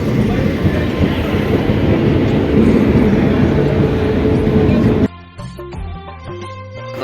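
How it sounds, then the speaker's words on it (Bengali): A train pulls into a station in West Bengal, a loud continuous rumble and roar of rolling wagons lasting several seconds before music takes over. "আর ট্রেন চলে এসেছে"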